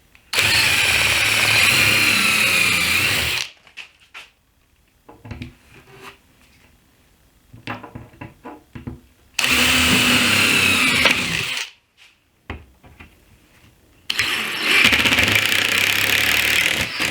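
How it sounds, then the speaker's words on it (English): Power drill boring pilot holes for screws into a water-damaged kitchen cabinet, three loud sustained whirring runs of a few seconds each, close by, separated by quieter handling knocks and shuffling. "just to hold it in place while I drill my pilot holes"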